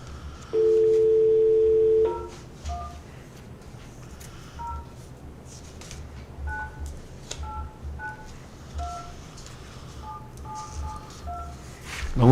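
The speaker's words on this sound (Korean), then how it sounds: "제가 전화 연결하도록 하겠습니다." Telephone dialing while connecting a call: a long steady dial tone, then a quick series of short keypad tone beeps of varying pitch, faint line hiss underneath and a click at the end.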